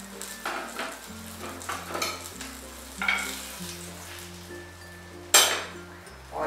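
Brinjal slices fry on a tawa with a steady sizzle, and a spatula scrapes and clinks several times as they are turned. One sharp metallic clink comes near the end, with no talking.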